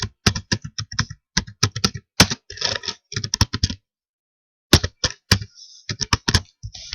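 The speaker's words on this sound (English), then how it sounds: "oh, we have to type a lot" Fast, loud clacking on a computer keyboard arrives in dense runs of keystrokes, broken by a silent gap of about a second before the typing resumes.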